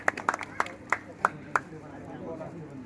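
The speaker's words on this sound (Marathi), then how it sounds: "टाळ्या वाजवूया." An audience claps for a newly elected municipal councillor at a felicitation gathering. A handful of sharp, separate claps sound close by, spaced unevenly, then fade away with no sustained applause.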